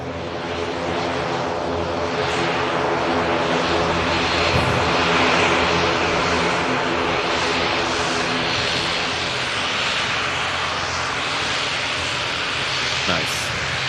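Loganair ATR 72 turboprop airliner at Manchester Airport, a loud steady propeller drone with a tonal hum held close throughout, while people talk faintly underneath.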